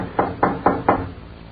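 Four firm knocks on a door in an old radio crime drama, evenly spaced and close, each a sharp thud with no voices over them.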